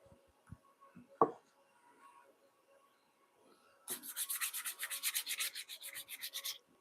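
A rag rubs stain into the end grain of a wooden lamp, starting with a few scattered light scuffs and a sharp knock, then moving into a rhythmic run of brisk back-and-forth strokes, close and clear.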